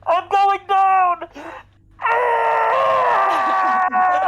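A person's voice imitates a scream during a tabletop role-playing game, giving short wailing bursts and then a long, loud, drawn-out moaning scream that wavers in pitch.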